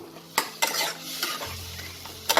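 Raisins and cashews stirred into a tomato chutney in a pan, with sharp close spoon clinks and scrapes against the metal at irregular intervals over a soft sizzle.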